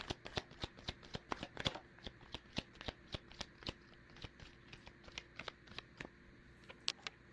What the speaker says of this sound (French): Bon, attendez, je prends les cartes.